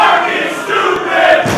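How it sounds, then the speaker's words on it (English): A wrestling crowd at the Electric Haze in Worcester reacts loudly to a wrestler, with a dense wash of jeering voices and shouting close around. "this Worcester crowd here at Electric Haze letting Smart Mark Sterling know exactly what they think of him"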